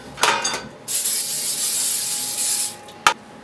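A close cooking spray can hisses in one long burst of about two seconds into round cake pans, framed by short clicks and clatter of handling.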